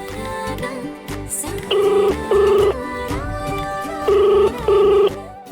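An outgoing call's ringback tone sounds in two pairs of short, loud electronic rings separated by a pause, over a soft dramatic music bed.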